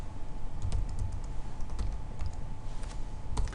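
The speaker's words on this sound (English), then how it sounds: "We can then type in the order number" Keys clatter on a computer keyboard in short irregular bursts as an order number is entered, close and fairly quiet over a faint steady hum.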